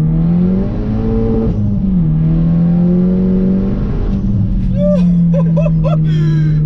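Engine of a 380 hp stage 2 Volkswagen Polo WRC, a front-wheel-drive car, droning loud and steady as it accelerates, with a brief dip and shift around two seconds and whiny tones rising near the end.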